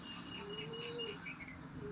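Birds calling outdoors on a farm with peacocks and pigeons kept nearby, a faint steady chorus of chirps with a soft cooing tone, distant and low in level, no talk.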